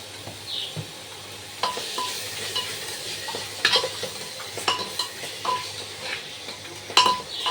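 Onions and tomatoes sauté with turmeric in a pan while chicken biryani is being cooked, giving a steady soft sizzle broken by repeated stirring scrapes and light clinks of a utensil against the pan.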